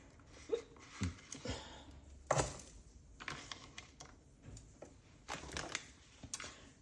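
A knife chops ingredients for a seafood boil sauce on a cutting board, giving soft, irregular taps and thuds at close range, fairly quiet.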